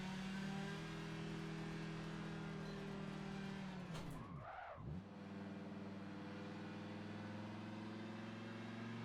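An Audi 90 GTO race car at Road Atlanta in Forza 7 drones at steady high revs, then a brief dip and sweep as the car shifts or passes before the engine note settles again.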